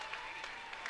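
Softball crowd at Oregon applauding from the stands, a brief burst of steady clapping heard at a distance.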